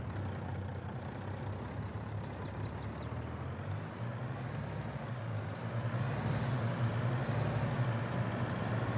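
A heavy truck engine idles with a steady low rumble throughout, growing slightly louder near the end, with faint chirps above, during a soybean harvest.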